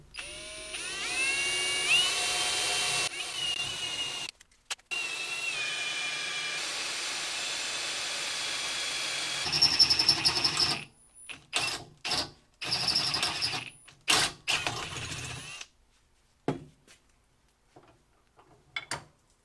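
A power drill bores pilot holes through a seat pan, with whirring bursts that start and stop repeatedly between quiet gaps, loud and close.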